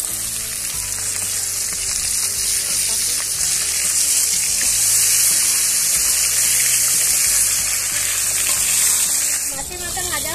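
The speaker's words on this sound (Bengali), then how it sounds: "তো মাছের তেলটা এত ফাটছে" Fish heads frying in a pan of oil spatter with a loud, close, continuous sizzle and popping crackle that runs throughout, with a faint voice briefly underneath.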